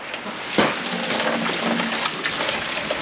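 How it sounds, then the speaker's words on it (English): Water pours steadily into a bucket set inside another bucket, a continuous rushing splash outdoors with a brief thump partway through. "So, bucket in bucket, let's fill it up with water."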